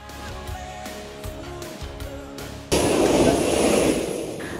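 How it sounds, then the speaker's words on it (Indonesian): Engines of a Hercules military transport aircraft on landing at Adi Sucipto air base. A steady propeller drone with a tonal hum shifts abruptly into a loud, broad roar of rushing engine noise, heard close from on board. "Pesawat Hercules pun mendarat di Lanut Adi Sucipto"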